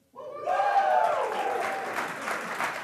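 Audience applause at a startup demo day, a burst of clapping that rises quickly and holds steady and loud throughout, with a faint voice carrying over it near the start.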